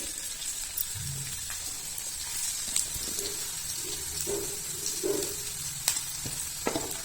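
Chopped onions sizzling in hot oil with mustard seeds in a pan, a steady faint frying hiss with occasional stirring clinks and light scrapes, no one talking.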